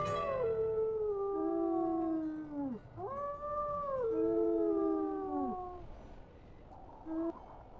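A video game wolf's howling animation gives long, gliding tonal howls, several overlapping voices rising and falling in a chorus close at hand, trailing off into quieter calls near the end.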